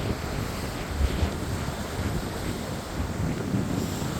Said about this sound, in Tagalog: Medyo mahangin na dito ngayon